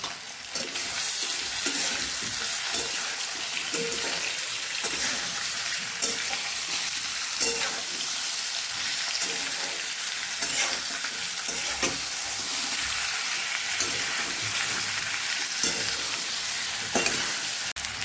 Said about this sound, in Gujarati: સ્વાદ મુજબ આપણે મીઠું ઉમેરી દઈશું એટલે બટેકા આપણે ઝડપથી પાકી જાય